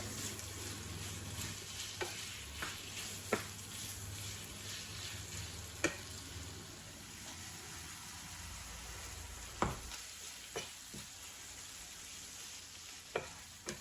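Ground meat sizzles softly in a pan for savory pastry filling, a faint continuous frying hiss broken by occasional sharp scrapes and taps of stirring.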